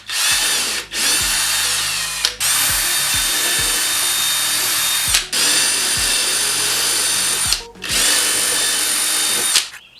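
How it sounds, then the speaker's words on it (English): A power drill bores holes in a car body panel on a crashed 350z, whining loudly in four long close bursts, each ending in a sharp stop and brief pause. "now we're gonna drill the holes, line it up, and then rivet it"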